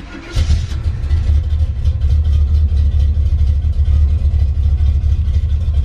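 A car engine catches on a cold start and settles into a loud, steady, rough low idle that runs throughout.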